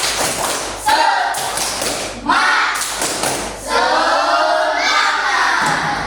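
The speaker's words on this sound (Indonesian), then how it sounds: "1, 2, 3, tepuk semangat." Schoolchildren in an elementary classroom doing a rhythmic spirit clap, bursts of loud unison claps and thumps in several groups separated by short pauses, recorded close and filling the room.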